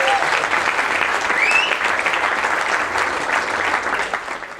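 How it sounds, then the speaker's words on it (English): Conference audience applauding after a lightning talk, a steady dense wash of clapping sustained throughout before tapering slightly at the end. "Can we have one extra round of applause for very good improvisation talent"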